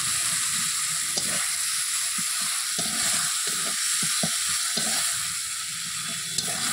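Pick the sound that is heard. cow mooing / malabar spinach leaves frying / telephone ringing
malabar spinach leaves frying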